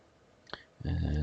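A single soft computer mouse click sounds on its own in a quiet room, and a voice starts talking just after it.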